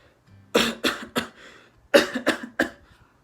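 Two close bursts of coughing, each three sharp coughs in quick succession, separated by a short pause.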